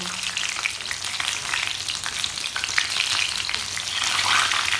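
Green chilli pakoras fry in hot oil with a dense, continuous bubbling sizzle, broken by soft scrapes and knocks as they are turned, close and with no talking.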